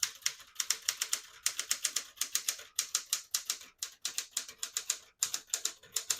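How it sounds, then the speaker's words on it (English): A 1972 Smith-Corona Classic 10 vintage portable typewriter types out a sentence in steady bursts of crisp key strikes, with brief pauses between words, close and loud, with no one talking. "I'll type a sentence on this next line."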